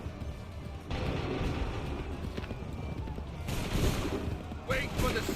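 A musket volley fired by a line of soldiers in Assassin's Creed III, a broad, rumbling burst of gunfire that swells and carries on under game ambience, with horse hooves, battlefield noise and shouted voices around it.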